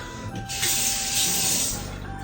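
Water runs steadily from a household tap into a sink for about a second and a half, a close, bright rush that starts and stops abruptly over a faint background hum.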